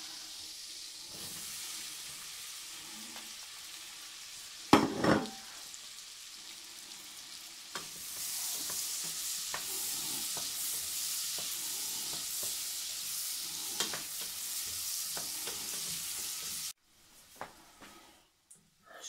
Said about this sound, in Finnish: Sipulit sitten kulotetaan.